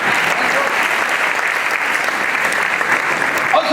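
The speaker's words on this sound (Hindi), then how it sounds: "मेरी दुआ के लिए ताली बजाना" Loud, sustained audience applause at a Hindi comedy poetry show, a thick and even roar of clapping from a large crowd that carries on without pause.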